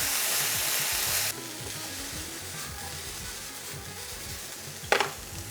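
Bean sprouts stir-fry in a hot pan with a bright, loud sizzle that drops to a softer steady crackle after the first second, with scraping stirs throughout and a sharp burst near the end.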